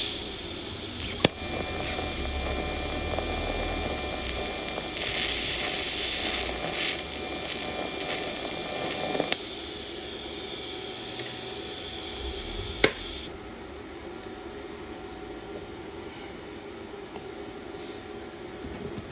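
YesWelder 205P Pro TIG welder set at 20 amps running a bead along a joint, a steady close hiss with a brighter stretch midway, a few sharp clicks, and a quieter tail after the arc stops.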